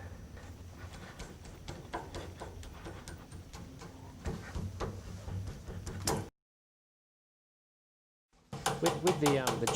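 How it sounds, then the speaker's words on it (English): A sharp chisel is tapped into a wooden door to cut a shallow recess, only a few millimetres deep, for a lock latch. Close, rapid knocks and scrapes stop for about two seconds of silence, then resume more loudly. "With the chiselling out of the door"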